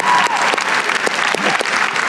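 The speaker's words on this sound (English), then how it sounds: "Give him a round of applause." An audience applauds loudly and steadily throughout at a motivational seminar, with dense close clapping filling the room.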